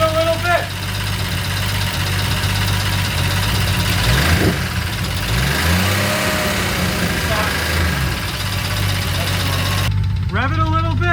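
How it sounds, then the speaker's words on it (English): A turbocharged BMW E46 engine idles roughly, then revs up and falls back in a couple of close, loud sweeps, with voices talking over it. "Rev it a little bit."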